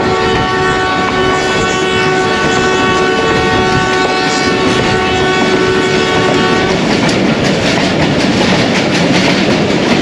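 A passenger train, the Ravi Express, runs alongside a freight train on a branch line near Shorkot, a loud steady rumble and rattle of wheels with a sustained horn-like tone fading out partway.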